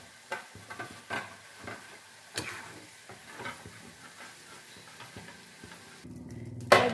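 Beans fry quietly in a pan with a pinch of salt, a soft sizzle broken by scattered spatula taps and scrapes, ending in a sharper clatter.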